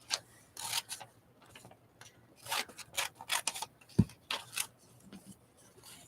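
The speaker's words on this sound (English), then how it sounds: "I want to keep this little silver shoe, too, and fussy cut that out for a collage." Scissors fussy cutting a small silver shoe picture from a magazine page, producing quiet, close, uneven clusters of crisp snips and paper rustles, with no one talking.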